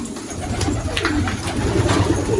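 Pigeons cooing in a coop while they feed, several soft overlapping coos repeating close by against low background rustling.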